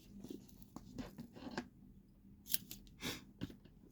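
Small scissors snip paper in a quiet indoor crafting session, giving several faint, crisp cuts and rustles spread irregularly, with a few sharper snips near the end.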